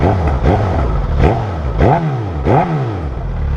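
A warmed-up motorcycle with an aftermarket exhaust gets blipped about five times, each rev rising and falling in a deep, rumbly, fairly loud burst close by, with no talking.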